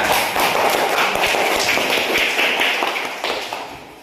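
A classroom of pupils applauds a classmate during an Indonesian science lesson on heat. The clapping is dense and steady for about four seconds, then thins out slightly toward the end.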